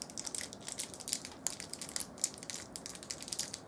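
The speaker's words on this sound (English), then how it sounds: "like this candy wrapper here" A candy wrapper is crinkled and crushed close up, producing dense bursts of crackling that rise and fall continuously in a quiet room with no talking.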